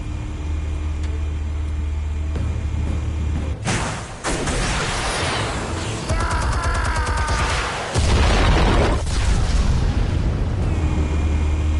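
Armed explosives detonating in a Batman Telltale video game: a sharp blast cuts through a low droning background, followed by clattering debris and a second deep rumbling surge, with no talking.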